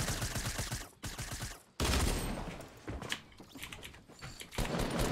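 Enemy gunfire in a shooter video game: bursts of rapid rifle shots in rattling volleys, loud and close, broken by brief pauses between strings of fire.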